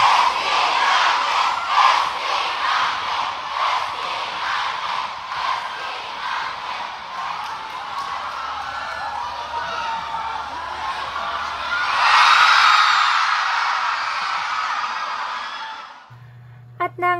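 Audience at a concert during the Naliyagan Festival in Agusan del Sur screams and chants in rhythmic waves, a dense, loud crowd that swells louder near the end before cutting off.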